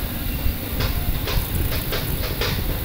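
A KiHa 40 diesel local train bound for Asahikawa runs along the line, its steady loud rumble broken by a series of rhythmic wheel clacks over rail joints.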